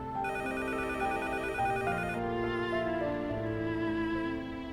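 Telephone ringing in a restaurant during a dubbed Turkish drama, a steady electronic ring with layered tones running continuously for several seconds at moderate level, no talk over it.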